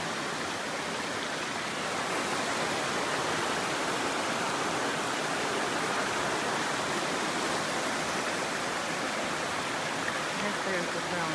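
Creek water flowing across a backpacking trail: a dense, broadband rush of moving water that stays steady and loud for the whole stretch, close by, with no voices.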